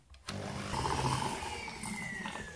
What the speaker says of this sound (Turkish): Bunu da hemen 1 dakika kadar çırpacağım.